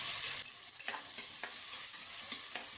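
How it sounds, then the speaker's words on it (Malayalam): Small onions sautéing in oil inside a pressure cooker, a steady bright sizzle with a few soft stirring scrapes from a spoon, the sizzle briefly louder at the very start and then settling. "എന്നിട്ട് നമുക്ക് ഉള്ളി നല്ലപോലെ ഒന്ന് വഴറ്റി കൊടുക്കണം"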